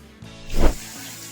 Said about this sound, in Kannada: ಇವಾಗ ಮುಳುಗೋಷ್ಟು ನೀರು ಹಾಕೊಂತಾ ಇದ್ದೀನಿ